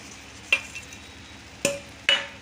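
Khoa balls are stirred gently into soft cooked pulao rice, with three sharp scrapes of a spoon against the pot over a quiet background.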